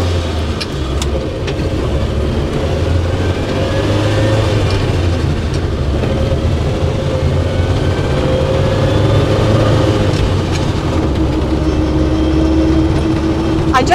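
A 1980s Bedford CF2 van cruising at 30 mph in top gear gives a steady, loud engine drone and road rumble heard from inside the cab, unbroken for the whole stretch.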